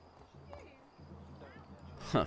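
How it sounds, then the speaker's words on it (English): Horse hooves clip-clopping in the video game Assassin's Creed 3, a faint steady beat under a low rumble and a voice, ending in a louder burst. "Let's go, horse."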